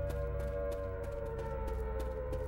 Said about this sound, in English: that's an atomic bomb siren